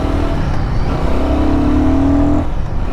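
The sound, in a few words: Royal Enfield Guerrilla 450 motorcycle riding in the city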